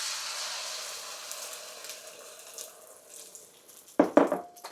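Beaten eggs pour into a hot wok slicked with a couple teaspoons of oil over medium-low heat for Whampoa-style scrambled eggs, giving a steady close sizzling hiss that slowly fades, followed by a few sharp clinks near the end.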